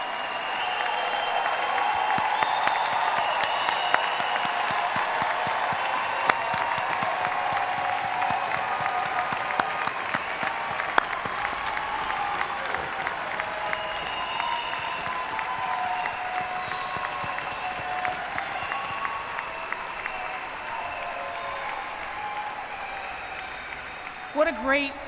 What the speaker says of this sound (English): Class of 2023, stand up and applaud yourselves.